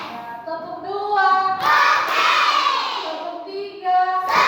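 A class of children claps a rhythm during a lesson, a burst of quick hand claps mixed with loud chanting young voices, preceded and followed by sung calls.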